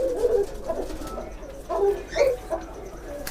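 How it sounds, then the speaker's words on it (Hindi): Pigeons, Farozpuri and Kamagar breeds, cooing nearby with a few soft low throaty calls in short bursts over quiet background noise. "माशाल्लाह जी कबूतर देखें"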